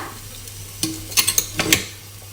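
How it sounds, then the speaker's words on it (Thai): Several sharp, crisp crackles and crunches sound up close in quick succession as crispy roast pork crackling is pressed or tapped. "นี่เสียงกรอบมาก ๆเลยค่ะ"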